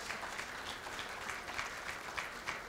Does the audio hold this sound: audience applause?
yes